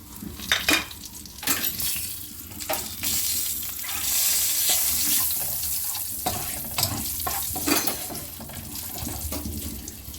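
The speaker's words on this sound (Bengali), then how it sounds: "ওই তেলেই আমি এবার গোটা গরম মশলা ফোড়ন দিয়ে দিচ্ছি" Whole garam masala crackles as it is tempered in hot oil left from frying katla fish for a Bengali kalia. The close, bubbling sizzle swells and spits in uneven bursts, with occasional stirring knocks.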